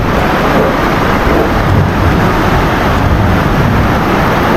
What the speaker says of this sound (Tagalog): Ang lakas ng ulan pala, timing nga naman tayo ngayon.